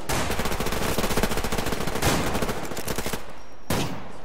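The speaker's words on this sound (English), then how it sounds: "the guy standing right next to me shot me" Automatic gunfire in the video game Survarium, a dense run of rapid shots filling the first three seconds, then a short pause and one more sharp burst near the end, loud and close with no talk.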